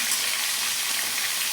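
Food frying in a pan, a dense, steady hiss of sizzling oil heard close and alone for a brief moment.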